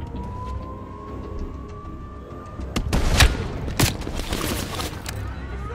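Gunfire in Call of Duty Black Ops Cold War during the Operation Red Circus mission, a few loud sharp bursts clustered midway over a rising siren-like tone and background game noise.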